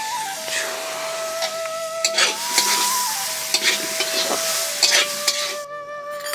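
Fried taro and elephant foot yam are worked into a spice paste in a pan, with repeated close spatula scrapes and clatters over a low sizzle, while a steady tonal hum runs underneath.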